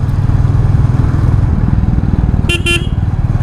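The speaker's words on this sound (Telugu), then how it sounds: "బండి ఇంజన్ తంపును కూడా ఇది రికార్డ్ చేస్తుందో లేదో చూద్దాం." A motorcycle engine rumbles loud and steady close up while riding, with two short horn beeps near the end.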